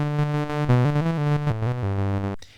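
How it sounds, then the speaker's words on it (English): A synth tone in Ableton Live runs through auto pan with random stepped stereo modulation, its pitch jumping in abrupt steps between levels as it sustains, loud and alone before cutting off. "what this will allow you to do is have a random stepped modulation on the left and the right channel"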